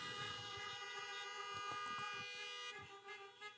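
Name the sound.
car horns honking at drive-in church service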